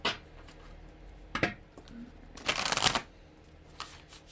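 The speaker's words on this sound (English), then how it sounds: "this other deck I'm shuffling right now is the Fountain Tarot" Tarot cards being shuffled by hand in several quick riffling bursts, close and crisp, separated by softer handling noises and quiet pauses.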